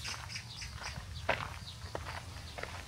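Small birds chirp in brief, scattered calls along a walking path beside the lotus pond at Gungnamji in early autumn, with soft footsteps and faint outdoor ambience underneath.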